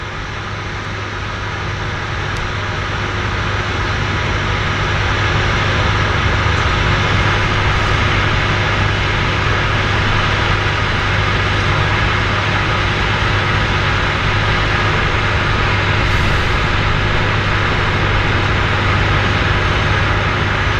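A floatplane landing at Vancouver's downtown harbour airport, heard as a loud, steady broadband engine roar that holds constant for about twenty seconds with no speech.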